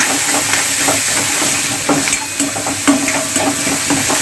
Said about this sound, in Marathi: त्या कांद्यालाही आपण चांगलं फ्राय करून घेऊया तेलामध्ये